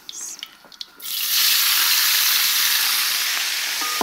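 Onion hits hot oil in a pan for a chicken and sweet pepper dish, setting off a loud, sudden sizzle about a second in that holds as a steady close hiss, after a few quieter clinks before it.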